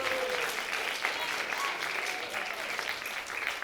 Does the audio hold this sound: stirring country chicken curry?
no